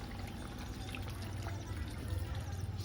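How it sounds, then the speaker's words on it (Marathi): Water poured into a pot of fish curry, a faint continuous splashing trickle close by with a low background rumble, no voices. "आता पाणी टाकून घेते."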